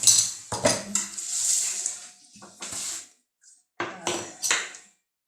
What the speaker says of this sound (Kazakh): мен ұнын араластыра берейін